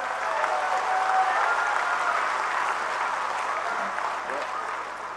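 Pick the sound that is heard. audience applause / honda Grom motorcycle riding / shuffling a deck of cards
audience applause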